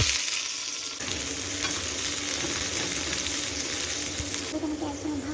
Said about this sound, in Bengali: তাই তেলটা গরম হয়ে গিয়েছে, এবার আমি পেঁয়াজটা দেবো। না জানি পেঁয়াজটা দিলে কত ফুটবে